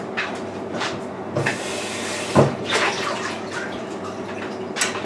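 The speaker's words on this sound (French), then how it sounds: "On va venir verser la pâte dans le moule." Banana cake batter is poured from a bowl into a cake mould, making a close, soft, wet pouring and sloshing sound with a few brief knocks along the way.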